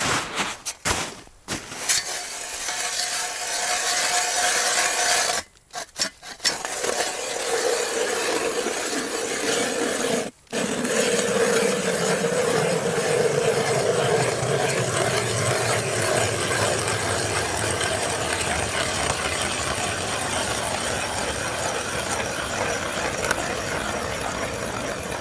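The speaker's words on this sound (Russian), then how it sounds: "похожу еще по бурелунке, посверлю" A hand ice auger grinds steadily through lake ice for a long stretch, a loud continuous scraping churn that pauses briefly a couple of times before drilling resumes.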